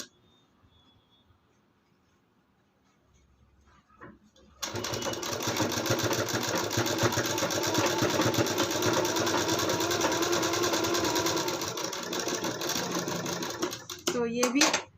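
A sewing machine stitches a folded blouse hem, starting after a few quiet seconds and running close and continuous at a fast steady rate for about ten seconds before stopping.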